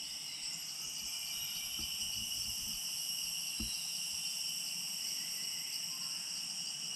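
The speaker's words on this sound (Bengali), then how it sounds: "ঝিঝি পোকার ডাক সহ পাখির ডাক," Crickets chirp in a steady high insect drone through Tilagarh Eco Park forest, with faint low thumps and no talk; bird calls are not clearly distinct.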